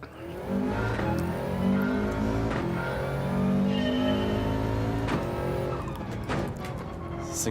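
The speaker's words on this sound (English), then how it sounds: "This thing does have a nice blow-off valve sound, though." A Mazda 3 engine in Gran Turismo 7 revs and drones loudly with tire noise, and sharp hissing bursts of a blow-off valve cut in between gear changes.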